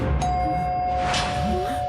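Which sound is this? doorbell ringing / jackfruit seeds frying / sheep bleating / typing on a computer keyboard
doorbell ringing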